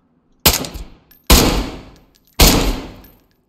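Three loud, close gunshots from a pistol in the video game DayZ, each a sharp crack followed by a short decaying tail, spaced about a second apart with silence between.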